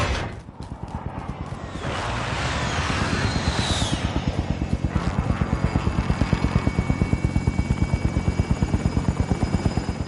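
A helicopter in the Call of Duty Warzone game approaches, its rotor building into a loud, rapid, steady thumping chop that dominates after a swelling rush of wind and engine.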